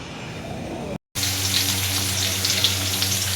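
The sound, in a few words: tempering frying in a pan for lemon rice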